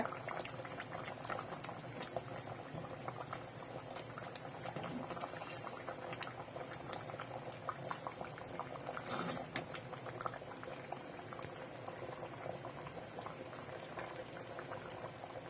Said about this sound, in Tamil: குழம்பு நல்லா கொதிச்சு முட்டை வெந்துருச்சு